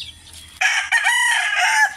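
A white gamefowl rooster crows once, loud and close, a long strained cock-a-doodle-doo lasting over a second after a brief quiet lead-in.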